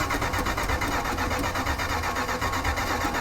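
A 1972 Plymouth Road Runner V8, just coaxed to life on ether during a restoration, runs loud and close with a rough, steady rhythmic pulse and no pause over the whole stretch.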